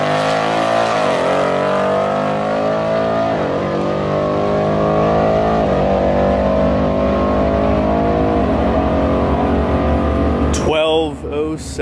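A bone stock Ford Mustang with a 10R80 automatic pulls hard down the drag strip at Cecil County Dragway, its engine note loud and sustained with rising gear sweeps, then an abrupt shift in sound near the end.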